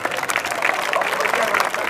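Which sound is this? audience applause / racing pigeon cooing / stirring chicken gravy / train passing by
audience applause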